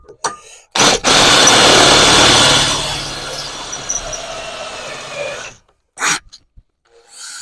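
A drill bores an 8 mm hole in one go with an old bit while a trailer is being restored: a loud, grinding burst that fades over a few seconds, followed by a brief second spurt of drilling.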